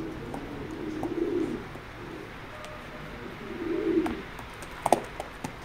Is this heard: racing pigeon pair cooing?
yes